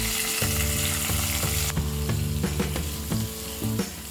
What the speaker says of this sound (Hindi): गैस ऑफ कर देते हैं और इस तड़के को हम ये मिलेट पोंगल में डालेंगे।